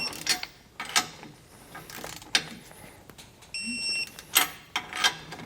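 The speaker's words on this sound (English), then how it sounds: "Now we can go ahead and torque it down to the specifications listed in your instruction manual." A wrench ratchets while nuts are torqued down on a Roadmaster Exact Center steering stabilizer on a Class A motorhome. Several sharp metallic clicks and clacks come in bursts, with a brief steady tone midway.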